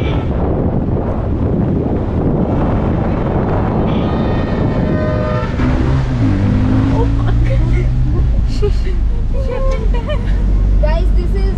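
Car rolling along a road toward Lambasingi in Andhra Pradesh, a loud continuous engine and road rumble with wind buffeting the microphone throughout.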